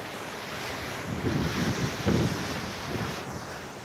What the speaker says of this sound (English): I am pretty glad of a bit of wind cooling everything down